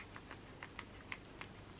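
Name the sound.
guinea pig chewing food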